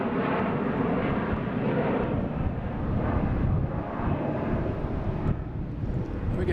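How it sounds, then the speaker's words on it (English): Jet engine roar from a JetBlue Airbus A320 arriving from Cancun at Boston Logan, a steady broadband rumble with wind buffeting, moderately loud and continuous throughout, no voices. "We got JetBlue coming in from Cancun. Flight 772 and A320."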